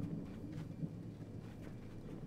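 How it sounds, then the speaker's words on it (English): Faint, distant thunder from a storm rolls softly as a low rumble for a couple of seconds in the video game 12 Minutes. "Oh, thunder. I wasn't expecting a storm tonight."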